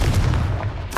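A Confringo fire spell explodes in Hogwarts Legacy, a short heavy boom with a low rumbling body and a brighter crackle bursting in at the end, loud and close.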